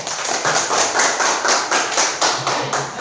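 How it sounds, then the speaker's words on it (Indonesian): A small classroom group claps for a student who has just recited a pantun, a close, fairly loud burst of hand claps with a steady rhythmic pulse and no talking. "Tepuk tangan untuk Rian"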